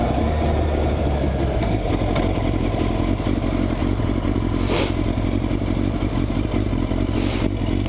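A Yamaha Fazer motorcycle engine runs steadily nearby, a loud continuous idle rumble with faint clatter throughout and no talking.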